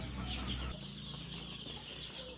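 Young desi poultry chicks on a farm chirp in a dense, overlapping chorus of high peeps, near and continuous, with a low hum underneath for the first moment.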